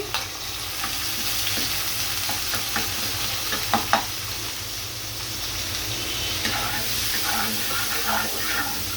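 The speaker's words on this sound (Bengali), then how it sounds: "পেঁয়াজটা আমি একটু হালকা ব্রাউন কালার করে ভেজে নিব" Chopped onion frying in oil in a pan for a koi fish curry, a loud continuous sizzle with occasional clicks and scrapes as it is stirred, close up.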